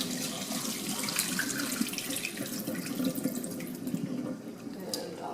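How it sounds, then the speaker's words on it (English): Rinse water from washing toor dal pours out of a pot and splashes steadily into a sink for several seconds, then tapers off with a few drips near the end. "and then I just dump the water out."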